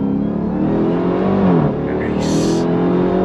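A 2025 Dodge Durango Hellcat Hammerhead performance SUV accelerating on throttle, a loud engine roar rising and then dropping as a gear changes, heard from inside the cabin and followed by a brief high-pitched whine.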